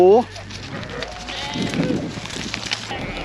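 A sheep on a rainy mountain trek in Kashmir gives one short, clear bleat at the start, followed by a steady wash of outdoor noise and faint background sounds.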